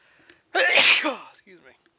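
A single loud, close sneeze bursts out during a live football video-game session, followed by a short, quieter trailing breath with no speech.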